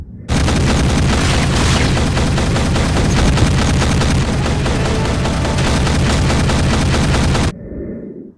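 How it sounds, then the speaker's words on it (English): A fully automatic shotgun fires one long, continuous roaring burst of rapid blasts for about seven seconds, very loud and close, then cuts off abruptly. "Let's go ahead and take a look at what a fully automatic shotgun looks like."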